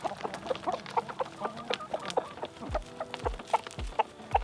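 Backyard chickens, roosters and hens, cluck repeatedly in short, choppy bursts at close range, with a few lower thumps and scratchy movement sounds mixed in.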